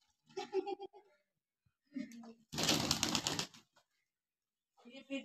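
Pigeons coo softly nearby, and a sudden burst of flapping wings rushes past midway through.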